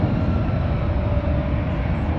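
A Gulfstream business jet taking off at full power from San Francisco, a loud, steady broadband jet roar that fills the entire clip without letup and carries a faint sustained whine above it.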